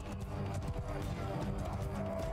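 Cavalry horses gallop in the video game Mount and Blade Bannerlord, a dense rolling patter of hooves with a faint whinny under battle noise.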